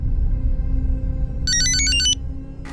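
A telephone rings in a police crime-drama scene, a single clear electronic trilling burst over a low room hum, then cutting off.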